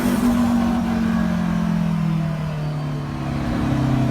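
A 500bhp all-wheel-drive Honda Civic EG with a K20 engine screams at high revs near 9,000 RPM. The loud, close engine tone sags briefly at a gear change, then climbs again.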